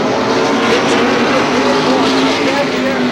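Race cars roar around a short oval at Star Speedway during a 10-lap heat race, a continuous loud engine drone with an announcer talking over it.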